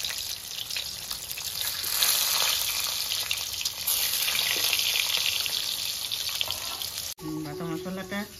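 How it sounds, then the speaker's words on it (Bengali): Eggs frying in a pan with a little salt and turmeric give a steady, close, loud sizzle for about seven seconds, then stop abruptly as a short burst of music takes over. "এবার ডিমটা আমি ভেজে নেব"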